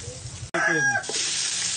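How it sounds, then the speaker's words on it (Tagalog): A rooster gives one short, close crow, preceded by low clucking and followed by a steady frying-like hiss. "Chicken."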